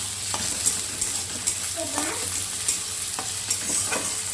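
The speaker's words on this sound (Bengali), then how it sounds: "আলু আর পেঁয়াজ একসাথে এবারে আমি ভেজে নেব" Potato and onion fry together in a pan, a steady sizzle broken by the scrape and clack of a spatula stirring every second or so, close and clear with no talk.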